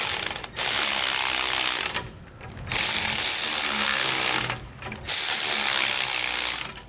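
A hand ratchet with a 9/16 socket tightens U-bolts on a tie rod bracket during a steering stabilizer install on a 2018 Entegra Coach Insignia motorhome. Three loud, close bursts of rapid clicking are separated by brief pauses.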